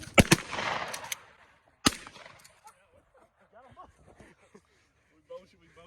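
Two close shotgun blasts at the start with a third single blast a second and a half later, loud and sharp, followed by quiet rustling and faint people talking.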